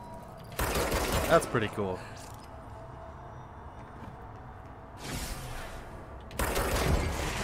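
Bursts of rapid gunfire from the game Control crackle in short volleys at the start and again near the end, separated by quieter stretches while someone talks casually.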